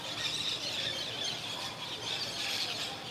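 Birds chirp and squeal in a thin, high chorus outdoors by a pool. The calls are faint and continuous over a soft broadband background, with no talking.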